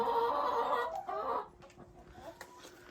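Chickens cluck nearby, loud at first and then trailing off into softer, scattered clucks against a faint steady hum.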